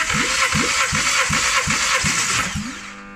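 A Toyota 3ZZ-FE 1.6-litre engine from a 2004-2009 Corolla, with 179,993 km, runs close by, its steady mechanical chugging pulsing at a regular rhythm before easing down at the end.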